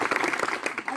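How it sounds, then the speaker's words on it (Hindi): Audience applause at a village gathering, steady dense clapping sustained throughout over a continuous wash of crowd noise. "इसके लिए जोरदार ताली"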